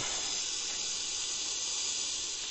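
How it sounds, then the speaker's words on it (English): An oxy-fuel torch flame, burning with too much oxygen while melting scrap sterling silver, gives a loud, steady broadband roar and hiss with no pauses. "You don't need to have a flame that sounds like this."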